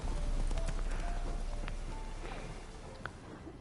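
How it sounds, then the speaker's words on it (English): Horse hooves clip-clopping in the video game Witcher 3: Wild Hunt, a steady trotting patter heard close up over a busy game mix that fades slightly toward the end. "Now is the horse gonna come back here?"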